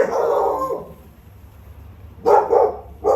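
A small guard dog barks from somewhere near a door, one longer bark followed after a pause by two sharp barks, loud and close with no talk.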